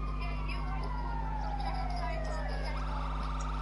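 An ambulance siren in GTA 5 wails in a falling sweep, steady and moderately loud across the short moment, with a low engine-like hum underneath.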